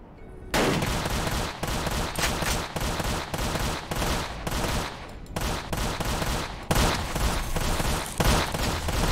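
Rapid bursts of gunfire in a roleplay video game, loud and close, with repeated automatic volleys and short pauses between them and no talk over the shots.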